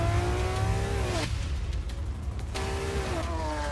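A Lamborghini F12 engine revving high, with loud sustained rising and falling tones, a brief drop between pulls, then another high-rpm surge.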